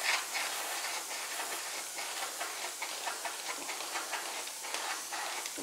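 An airbrush lays paint onto graphics on a Dodge 330, producing a continuous, close, airy hiss with slight pulsing throughout.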